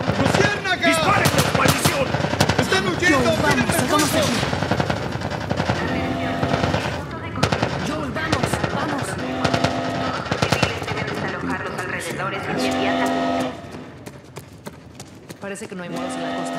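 Rapid automatic gunfire in The Last of Us remake, loud and sustained under shouted Spanish voices, with bursts continuing through the scene amid alarms and commotion.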